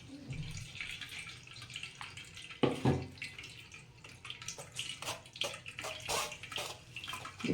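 Water pours and splashes into a blended amla and mint mixture while a sherbet is made, a steady watery rush with a few louder splashes and no talk.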